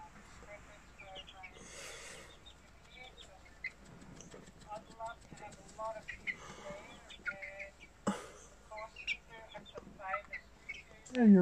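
A pet bird making soft clucking calls indoors, irregular short chirps and clucks close by, interspersed with a person's talk and some handling noise.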